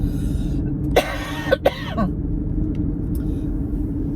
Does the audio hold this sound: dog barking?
no